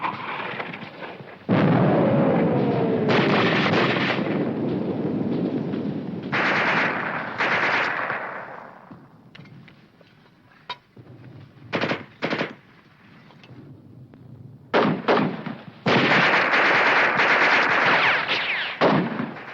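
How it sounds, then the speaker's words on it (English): Battle scene from a war film with a mortar and machine guns firing: long bursts of loud, rapid automatic fire and heavy booms come in waves, broken by short gaps and sharp single blasts. "Keep firing that mortar. Keep it going."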